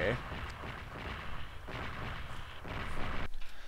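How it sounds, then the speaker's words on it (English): Dense, continuous explosions and booming blasts from the Sonic Adventure video game roll on without pause, loud and rumbling, with a sharper burst near the end. "Just explosions going off in my face."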